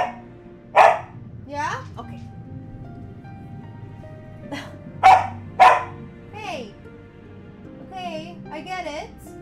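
A puppy gives a few short, sharp barks and yips indoors, spaced apart, while a person talks to it close by.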